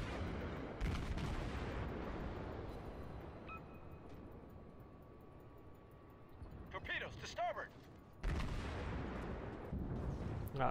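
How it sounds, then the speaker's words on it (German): Naval artillery from the cruiser Karlsruhe in World of Warships, heavy booming salvos at the start and near the end over a steady rumbling sea-and-engine bed, with someone talking in German in between. "Da wird aber jetzt mal drauf geschossen"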